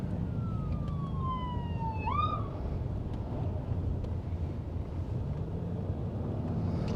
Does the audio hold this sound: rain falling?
no